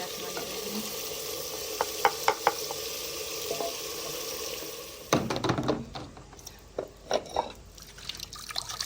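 Ground spices with turmeric, garam masala, chili, salt and dried coriander roasting in a pan, a faint steady sizzle with stirring scrapes and small clinks, louder sputtering toward the end; no talking.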